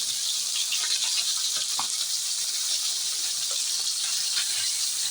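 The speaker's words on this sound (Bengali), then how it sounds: "হালকাভাবে মাছগুলো ভেজে নেওয়া হলো।" Tilapia fish fry lightly in hot oil for a village-style dish, giving a steady, even sizzling hiss at moderate level with occasional faint pops.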